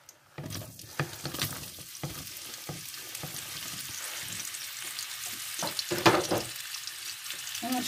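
Sliced zucchini sizzles in a frying pan, a busy crackling hiss broken by scraping stirs and occasional louder spits, close and steady throughout with no talking.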